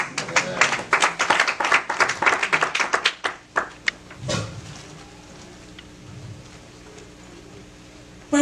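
A church congregation claps together in quick, loud rhythmic bursts for about four seconds, then the clapping dies out into a quieter room with faint murmurs.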